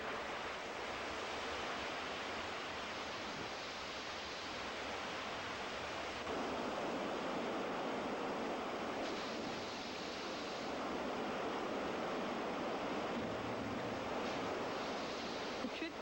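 Rushing whitewater at Lumsden Falls fills the scene with a constant, dense roar of churning water, steady and close throughout, with a slight swell midway and no distinct voices.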